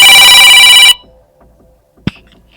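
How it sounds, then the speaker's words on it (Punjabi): A loud electronic mobile phone ring sounds near, then cuts off abruptly, followed by near silence and a single sharp click. "ਲੈ ਸੁਨੀਤਾ ਦਾ ਫੋਨ ਆ ਗਿਆ"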